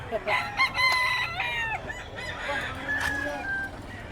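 Chickens and roosters at a pet market in Bocaue, with a rooster crowing and hens clucking close by amid market bustle, several overlapping calls in quick succession.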